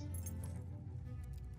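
Keys jangle in a video game, a few bright metallic clinks at the start, then fainter scattered chinks toward the end, quiet and close.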